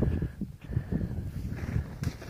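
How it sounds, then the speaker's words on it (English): Strong, cold gusting wind on the summit of Monamenach near Glenshee, Scotland, buffets the microphone in a steady low roar with rising and falling bursts, loud and close, with no voices. "Very windy up top, but what a day."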